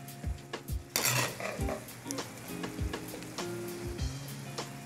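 Sautéed bitter gourd with egg is served with metal utensils, which clink and scrape against dishes and a pan in repeated sharp knocks over a faint steady sizzle, close by and with no talk.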